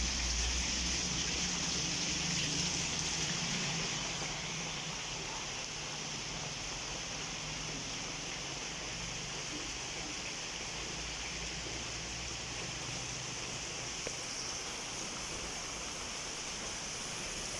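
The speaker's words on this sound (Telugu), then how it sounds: "భయంకరంగా ఉంది వర్షం" Continuous heavy rain pouring down during a thunderstorm, a broad steady roar that softens slightly after the first few seconds but never stops.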